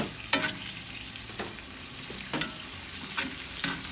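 Bacon sizzles steadily in a hot pan with a continuous crackling hiss, punctuated by a few sharp scrapes and clinks as the strips are flipped, no talking.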